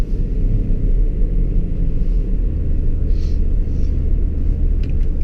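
A tuned 2005 BMW 535d with 370 hp rolls through city streets at low speed, a steady deep engine and road rumble droning continuously from inside the cabin with no voices.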